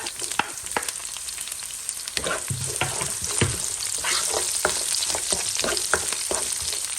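Shallots and green chillies sautéing in a pan for a Kerala crab roast, a continuous bright sizzle with repeated scraping strokes of a spoon stirring through the oil.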